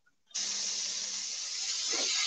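Waffle House hashbrowns hit the hot griddle with a sudden sharp sizzle that starts abruptly and holds as a loud, steady hiss, with a brief soft thump near the end.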